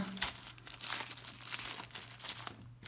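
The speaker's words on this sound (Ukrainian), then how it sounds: "Розклеїти то тяжко рву, щоб було швидше економлю ваш час." Packaging of a Fnirsi LC1020E bridge RLC meter is torn open in a steady run of crinkly, ripping rustles, fairly close, with no talking.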